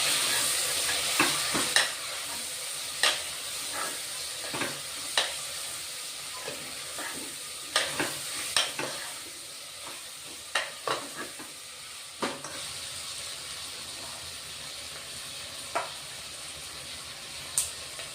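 Cauliflower and cashews sauté in oil for a pulao with a soft steady sizzle, punctuated by a dozen or so sharp spoon taps and scrapes against the pot at irregular intervals. The frying is fairly quiet and no one speaks.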